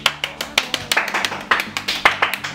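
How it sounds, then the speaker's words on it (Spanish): Hand clapping indoors at home, a single person's sharp, fairly even claps repeating about a dozen times in quick succession, close and clear with no talk. "Aplauso para mí."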